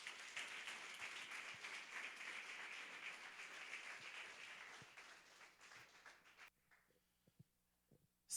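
A church congregation applauds during a praise service, a dense round of clapping that fades out after about six seconds, leaving near silence with a few faint knocks.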